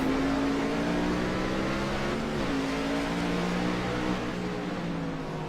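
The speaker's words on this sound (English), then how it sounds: "he's doing a little downshifting in the turns" A race car on a track runs at loud, sustained engine revs close by, its pitch stepping down and climbing again as it downshifts through the turns.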